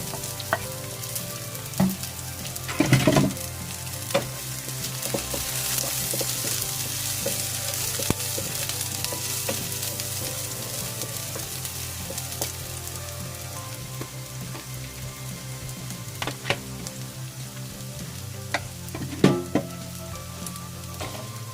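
Garlic frying with onion in a pan for pork with broccoli: a steady close sizzle runs throughout, with occasional spatula scrapes and clicks, with no talking.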